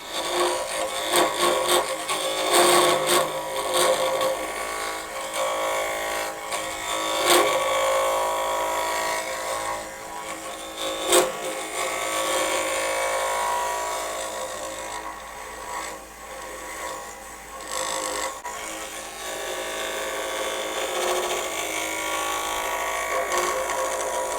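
A Hurricane woodturning tool cutting wood on a lathe spinning at 1,400 RPM, giving a continuous scraping, rasping shave with steady motor hum and irregular louder catches, close and loud for the whole stretch.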